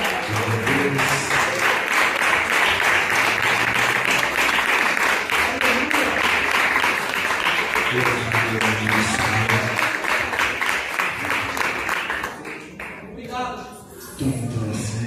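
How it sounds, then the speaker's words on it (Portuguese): A church congregation applauding, a long sustained burst of many hands clapping with voices mixed in, thinning out near the end into scattered claps and shuffling. "Você pode aplaudir o Senhor"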